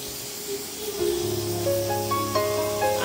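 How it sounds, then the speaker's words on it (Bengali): A pressure cooker cooking dal lets out a rising steam whistle, starting as a hiss and building into a loud, steady tonal shriek that climbs in pitch over a few seconds. "আমাদের এটা ডাল সিটি হচ্ছে"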